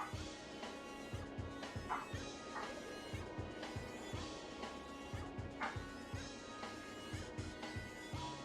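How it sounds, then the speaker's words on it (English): Dogs barking and yipping in the background of an EverQuest 2 game area, a steady run of short repeated barks under a continuous ambient bed, some louder yelps standing out. "Can you hear the dogs in the background"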